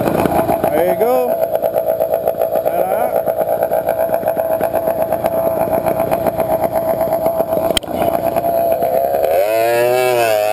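Motorbike engines rev and drone loudly and steadily at a Miami bike race, a sustained engine note with shifting pitch near the end and a voice talking over it.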